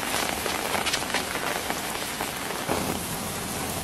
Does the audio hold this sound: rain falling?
yes